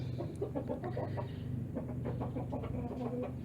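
One-day-old Bangkok chicks peep and cheep inside a box, a busy overlapping chatter of small high calls, close and steady throughout with no voices.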